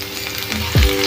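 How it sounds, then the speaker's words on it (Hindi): Spinach and julienned ginger fry in desi ghee with a steady close sizzle. Near the end a short, heavier burst of sound comes in, like something being stirred. "अब इसको देसी घी में फ्राई करेंगे।"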